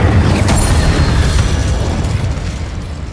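An Incendio fire spell is cast in the video game Hogwarts Legacy, giving a loud, booming fiery burst that roars on for a few seconds and slowly fades.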